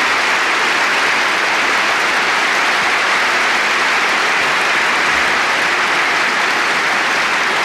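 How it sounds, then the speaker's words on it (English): Steady, dense applause from a large crowd at the 1979 Friends Provident Masters badminton final, after Prakash Padukone wins match point against Morten Frost, fills the whole stretch, loud and sustained without letting up. "Players deserving of the applause they're receiving."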